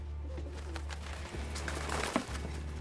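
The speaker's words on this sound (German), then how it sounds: "Er füttert Tauben." Pigeons coo softly in a Final Fantasy 7 Remake game scene, faint murmurs under a steady low hum and ambient game noise.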